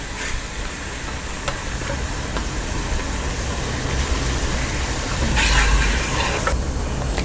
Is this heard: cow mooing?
no